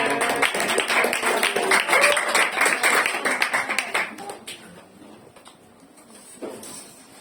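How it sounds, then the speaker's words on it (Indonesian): A classroom group claps for several seconds in a dense burst of applause that tapers to scattered claps and fades out. "Ya, tepuk tangan untuk kelompok 2."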